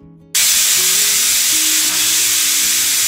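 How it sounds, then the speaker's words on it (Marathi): A pressure cooker of pumpkin soup on a gas stove at medium flame suddenly bursts into a loud, sustained steam whistle that hisses steadily for several seconds, close and dominant. "आता आपल्या या कुकरच्या छान 4 शिट्ट्या झाल्या"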